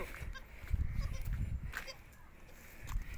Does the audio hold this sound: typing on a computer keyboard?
no